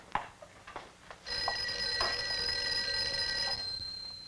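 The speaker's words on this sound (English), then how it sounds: "I think your phone is ringing." An old office telephone from a 1959 film starts ringing after a few soft clicks and knocks, its bright metallic bell trilling steadily and fairly clearly for a couple of seconds.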